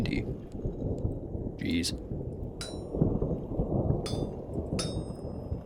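Thunder and steady rain rumble through a heavy, windy storm over a canyon at night in the video game Vintage Story, a low continuous roar with faint crackles, and a person speaks once.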